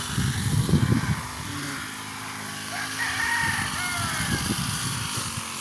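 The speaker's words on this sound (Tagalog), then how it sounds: "Ito na yung mga manok." Chickens on a small farm, with a rooster crowing in a couple of bursts over steady wind and outdoor hum, fairly distant and not loud.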